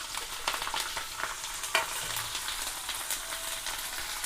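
Green chilies, cumin, mustard seeds and curry leaves frying in hot oil for a spicy North Karnataka chili dish, a close, steady crackling sizzle with stirring scrapes and one sharp pop.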